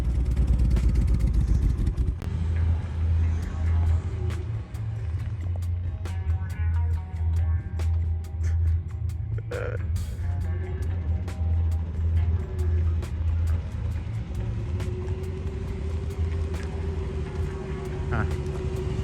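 Engine of an abandoned BMW E36 M3 cranking and then running loud and close, with a steady low rumble and rising revs, while people talk over it.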